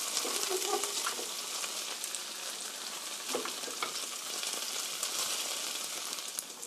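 Orange chicken pieces fry uncovered in a pan, giving a steady, dense sizzle and crackle that holds evenly throughout, close by with no talking.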